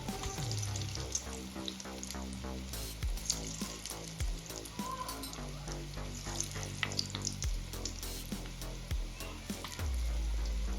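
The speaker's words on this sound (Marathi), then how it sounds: "इथे आपल्याला आलटून पलटून छान गोल्डन कलर येईपर्यंत भजे तळून घ्यायचे आहे" Moong dal pakodas deep-fry in hot oil in a kadhai with a steady, bubbling sizzle, while occasional soft knocks and clinks of a utensil turning them come through close by.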